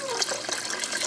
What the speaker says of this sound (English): I fill it up with water, of course, because this is an Instant Pot